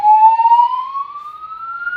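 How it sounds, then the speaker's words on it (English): A single rising electronic alarm tone sweeps steadily upward, loud and clear, with no one talking over it. "You guys may hear the alarm in the background"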